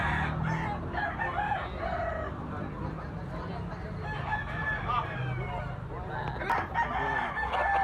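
A bullstag rooster crows repeatedly, close and loud, with other fowl and people talking in the background.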